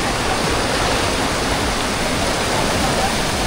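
Sada waterfall roaring as a steady, loud, broadband wash of falling water, close and continuous with no breaks.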